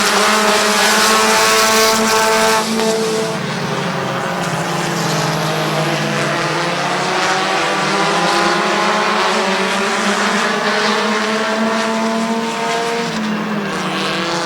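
Compact race cars roaring around a speedway oval in a heat race, a dense, continuous engine drone with rising and falling pitch as cars pass, loud and sustained throughout.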